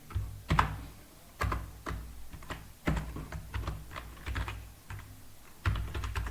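C code is typed on a computer keyboard in close, irregular bursts of clicking keys, with louder thumps from heavier keystrokes between quieter stretches.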